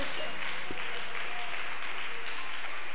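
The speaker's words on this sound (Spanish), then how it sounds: "Dele ese aplauso al Señor" Congregation applauding during a Spanish-language church service, steady dense clapping throughout the short stretch with a brief low thump near the start.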